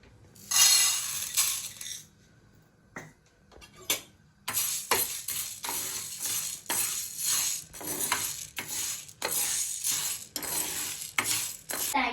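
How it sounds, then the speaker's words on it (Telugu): Moong dal dry roasting in a dry pan without oil, the lentils rattling and scraping under a stirring spoon in repeated close strokes, with metallic clinks and pauses between bursts. "పెసర్లు నూనె లేకుండా ఉత్తగా వేయించుకోవాలి డ్రై ప్యాన్ లో వేయించుకోవాలి"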